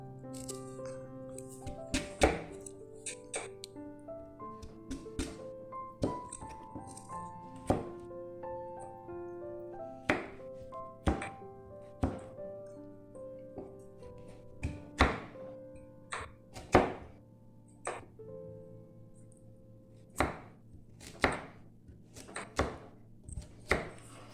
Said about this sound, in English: So first we cut the taro into smaller pieces first.